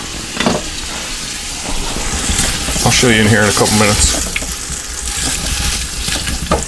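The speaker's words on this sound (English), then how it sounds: "Hear that sizzling going on?" Food sizzles steadily inside a pressure cooker with a constant frying hiss, while a person talks briefly over it partway through.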